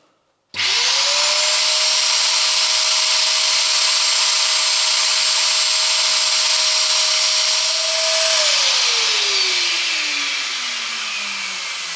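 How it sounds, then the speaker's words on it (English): Sandblaster cleaning metal brackets from an AEC Routemaster London bus blind box, a loud steady hiss and whine running unbroken for several seconds, then winding down in pitch as it shuts off. "to clean them up, we're going to use our trusty sandblaster. Now, these things are very, very noisy,"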